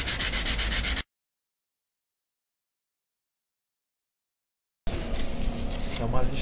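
Sandpaper of 240 grit rubs over lacquer paint in short scratchy strokes, close and fairly loud. The sound is heard in two bursts separated by several seconds of complete silence, with a voice speaking near the end.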